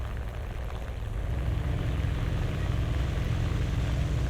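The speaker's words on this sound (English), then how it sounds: "I hear another plane." A propeller plane's engine drones in the War Thunder combat flight game, a loud, steady, rough roar that holds without a break and swells a little toward the end, with no talk over it.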